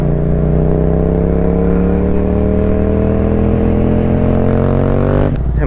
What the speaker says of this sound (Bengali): আমার বাইক একটা শব্দ দিচ্ছে। এটা কি ব্রেকের টাইট হওয়ার কারণে